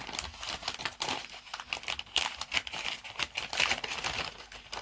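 Paper crinkles and rips in quick, irregular bursts as a prize package is cut and torn open, close and fairly quiet with no talking.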